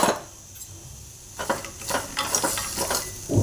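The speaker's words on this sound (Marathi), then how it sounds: "शेंगदाणेही चांगले भाजून घेणार आहे" Peanuts dry-roasting in a pan with garlic, a rattly stirring and scraping that starts after a quiet pause and continues in quick irregular strokes, fairly close and loud.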